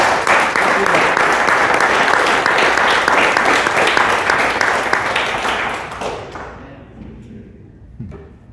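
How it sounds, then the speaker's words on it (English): Audience applause at a live event, dense and loud for about six seconds before thinning out and fading, with a few scattered claps near the end. "That was a good round of applause."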